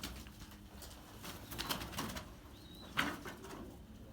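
Mosul and feather-footed Iraqi pigeons coo softly in low murmurs, with a brief flutter of wings and faint rustling nearby; no talking.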